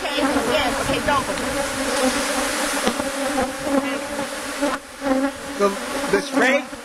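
Honeybees buzzing loudly and steadily around an opened hive during an inspection, a dense close swarm drone with wingbeat flutter, briefly dipping near the end.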